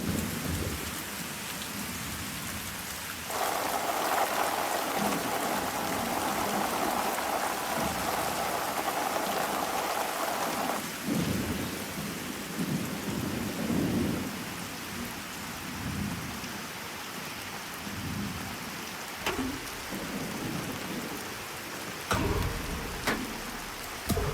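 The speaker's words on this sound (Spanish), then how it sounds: "un aguacero lo veías a la escala de las hormigas, y entonces era un tsunami aquello, ¿no? Una gran tormenta." A heavy cinematic downpour with rolling thunder, scored as a storm felt at the scale of ants; dense rain roars steadily throughout while low thunder rumbles swell and crack, loud and close, with no voices.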